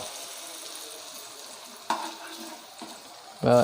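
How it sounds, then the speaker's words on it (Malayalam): Banana fritters (pazham pori) fry in hot oil with a steady, even sizzle, broken by a couple of short clatters as the pieces are stirred and turned. "നന്നായിട്ടൊന്ന് ഫ്രൈ ആവണ വരെ വെയിറ്റ് ചെയ്യാം"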